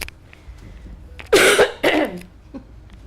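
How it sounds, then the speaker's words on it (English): Two loud, close coughs from a person with a cold, a short harsh burst followed by a second one, with no talking around them. "Apologies, I have a cold, so I'll try not to hack and cough and sneeze while I'm talking to you"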